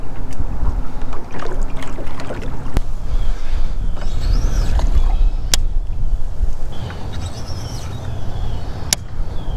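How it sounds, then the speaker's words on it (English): Strong wind buffeting the microphone beside a clear pond during a fishing trip, a loud continuous low rumble with gusts and a few sharp knocks. "Wind's gonna be obnoxious."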